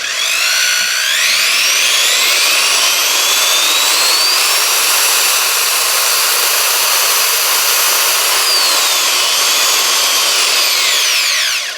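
A corded 3/8-inch right-angle electric drill runs loud and close for about twelve seconds, its whine rising and falling as the variable-speed trigger changes the motor speed.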